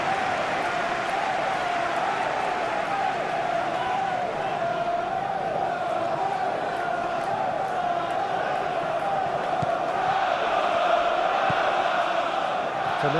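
Stadium crowd noise from the football game PES 21 during an Arsenal vs Chelsea match gives a steady, continuous roar and murmur throughout, swelling slightly near the end.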